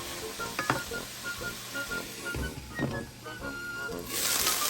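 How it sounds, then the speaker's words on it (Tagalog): Pinakbet vegetables simmering in a pot, a steady close sizzle and bubble with occasional stirring clinks and sloshes. "So let them simmer more."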